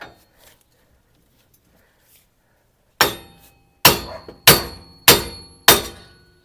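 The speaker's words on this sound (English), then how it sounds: "I hit the shield with the hammer." After near silence, five loud, ringing hammer strikes on a metal shield during a hub and bearing replacement on a 2006 Nissan Frontier land in a steady rhythm, each leaving a brief metallic ring.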